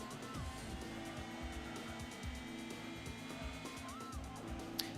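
A Gran Turismo car engine drones steadily with a buzzy, synthetic tone, an American muscle car shifting in pitch as it changes gear, with faint tire noise and no voices.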